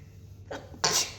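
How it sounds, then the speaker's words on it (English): A single sharp sneeze close up, a brief breathy intake followed by a loud burst, against quiet background hum. "Sorry, I'm going to sneeze."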